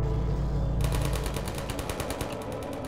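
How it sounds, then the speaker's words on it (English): Automated turret in Half-Life 2 at Nova Prospekt opening up with rapid rhythmic machine-gun fire, a fast even stream of shots that starts abruptly after a moment of low ambience and continues to the end. "Oh, that's an automated turret."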